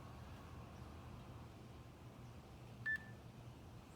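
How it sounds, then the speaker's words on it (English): A single short electronic beep from an interval workout timer as it starts, brief and moderately clear against a quiet room hiss. "I'm gonna start my timer here."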